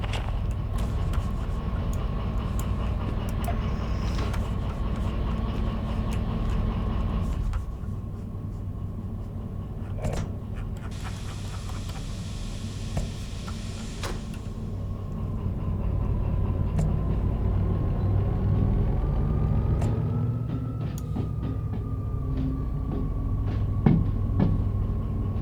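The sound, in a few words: train pulling a caboose in the video game Derail Valley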